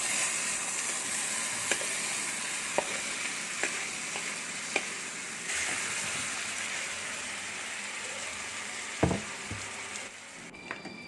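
Cooked jackfruit mixed with coconut is stirred in a hot pan, giving a soft continuous sizzle with scattered sharp scrapes and taps of the spoon against the metal.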